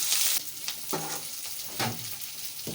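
Onions, green chillies and curry leaves sautéing in hot oil in a pan, a soft continuous sizzle broken by a few stirring scrapes and clinks, close and fairly quiet with no talking.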